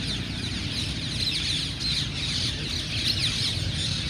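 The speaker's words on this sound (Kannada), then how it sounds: "ಈ ಮಾರ್ನಿಂಗ್ 6 ಗಂಟೆ ಹರಿಹರದಲ್ಲಿ ಸರ್ಕಲ್ ಮಧ್ಯೆ ಇರೋ ಮರದಲ್ಲಿ ನೋಡಿ ಗಿಳಿ ಎಷ್ಟು ಕುಂತಿದ್ದಾವೆ" A large flock of parrots perched in a tree at a town circle in Harihar at six in the morning, giving a dense, continuous chorus of shrill chirps and squawks over steady background noise.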